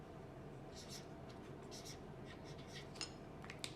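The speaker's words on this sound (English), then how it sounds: "And I write my number." Pen or pencil writing a number on paper, a soft scratchy stroke close by with a few light taps, quiet and steady over a low background hum.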